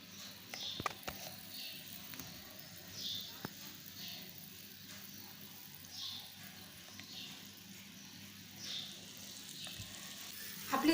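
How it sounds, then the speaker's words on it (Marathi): Misal gravy simmers and bubbles in a pan, giving a soft, steady sizzle and faint popping with occasional light clicks, quiet and close with no talking. "दोन मिनिटं अजून उकळून देऊया।"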